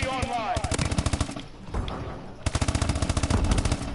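Automatic gunfire in Call of Duty Advanced Warfare multiplayer on PS4: two loud, rapid bursts of machine-gun fire separated by a brief pause, with some game sound in between.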